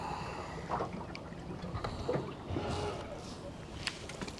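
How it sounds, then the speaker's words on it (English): Wind buffets the microphone outdoors while someone is fishing, a continuous rushing roar with gusty swells and faint water sounds underneath. "Wind making it super difficult here."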